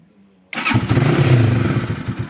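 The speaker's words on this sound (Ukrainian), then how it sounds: "Мотоцикл Діон Скрамблер пробіг 3797 кілометрів." A Geon Scrambler motorcycle with 3797 km on it starts abruptly after a brief silence, catching into a loud, close, rumbling idle that holds steady to the end.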